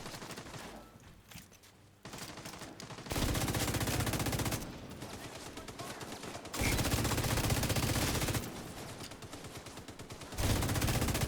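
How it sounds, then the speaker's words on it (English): A minigun and a deployed turret fire in a video game, with long loud sustained bursts of rapid gunfire broken by short pauses and quieter stretches between volleys. "The minigun is actually not the bad tool to get"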